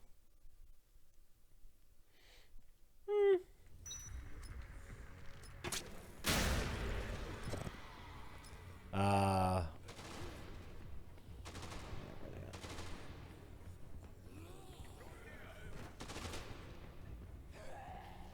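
Gunfire from casino robbers in the Dead Rising 2 video game: scattered bursts of shots, with a loud blast around the middle and rattling, sporadic reports continuing under a steady game ambience.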